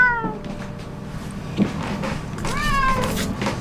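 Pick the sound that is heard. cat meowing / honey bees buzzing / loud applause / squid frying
cat meowing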